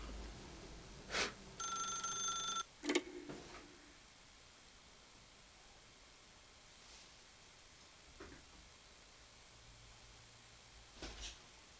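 A telephone in The Stanley Parable rings in loud bursts of bright electronic trilling, followed by quieter clicks and a near-silent stretch.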